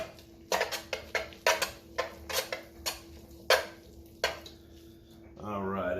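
Spoon scraping and knocking against a pot as pasta is mixed with butter, a run of about a dozen sharp clinks and scrapes in uneven rhythm, close and fairly loud, ending in a brief murmur of voice.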